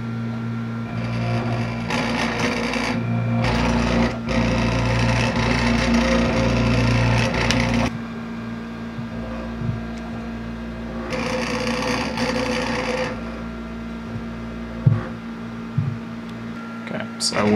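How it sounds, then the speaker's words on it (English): Faulty scanning club light grinding and whirring noisily as its mirror moves, a loud buzzing motor drone that rises in bursts, stops and restarts, with a few clicks near the end. "this one's making a lot of noise when it's moving."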